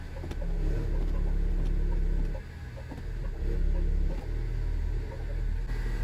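A Honda HR-V engine idles steadily to warm up after a CVT gearbox oil change at home, a close, continuous low rumble and hum that dips briefly midway, with no voices.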